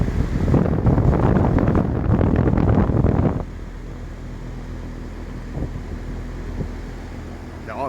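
A 2018 Goodman 3.5-ton heat pump runs outdoors. A loud, broad fan roar with wind buffeting cuts off abruptly after about three seconds, leaving a quieter low hum.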